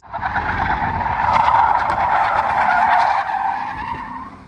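Loud, close tire screech as a car skids and spins out onto turf, the squeal swelling for a few seconds then easing off, with engine noise underneath.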